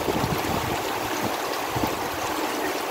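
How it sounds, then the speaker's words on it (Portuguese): Heavy rainwater pours steadily from a roof gutter spout during a days-long downpour in Bahia, a close, continuous splashing rush with no pauses. "A água cai na biqueira aí"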